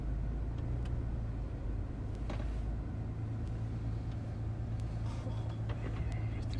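A 2020 Mercedes G-Class engine pulls steadily while climbing an off-road slope, a low continuous rumble with a few brief knocks and creaks over it and no speech.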